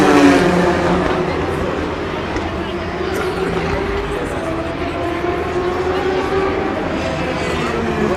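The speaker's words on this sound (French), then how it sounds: "La Porsche là, qui est deuxième, vient de passer." A Porsche race car passes during the night at the 2016 24 Hours of Le Mans. Its engine rises and falls in a loud whir, with commentary spoken over the track noise.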